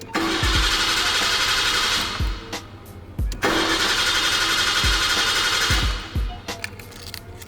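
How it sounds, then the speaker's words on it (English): A Nissan A31 Cefiro engine cranks with the fuel pump disabled, two long bursts of starter whirring that do not catch, each ending in a few dull clunks, close and loud. "when I put the key in and I turn the ignition, it shouldn't do anything other than just crank"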